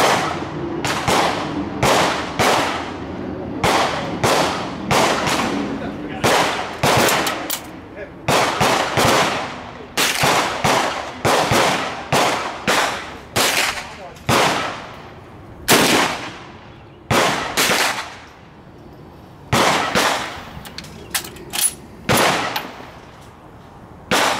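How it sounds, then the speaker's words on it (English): Musket fired at an outdoor shooting range among other shooters: a long run of sharp, loud gunshot cracks at irregular intervals, each with a short echoing tail, with people talking faintly between shots. "he's firing a musket over there"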